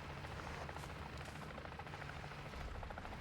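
Helicopter in the MW3 Zombies game, its steady rotor drone filling the whole stretch as a continuous loud wash with no talk.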